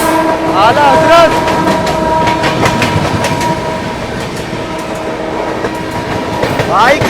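The Lucknow Tejas train overtakes the Poorvottar Sampark Kranti Express (22449), a loud, close rumble of rolling wheels and clattering rails with horn blasts near the start and end, and voices over the din.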